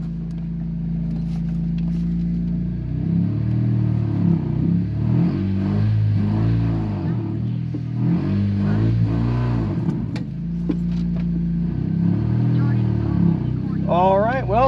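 A 1994 Nissan Sentra's engine runs with a steady low rumble that rises and dips as the car is put in gear and moved, with someone talking throughout.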